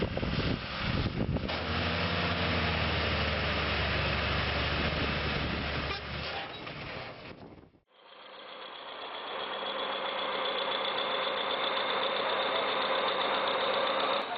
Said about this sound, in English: The Volvo FM340 was loaded with wood on both trailers, causing it to have problems when it encountered a narrow and subsided dirt road.